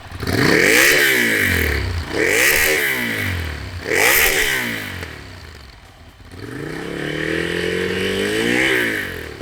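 A Ducati Monster motorcycle engine revs hard several times in a row, each rise and fall loud and close, ending in a longer sustained rev.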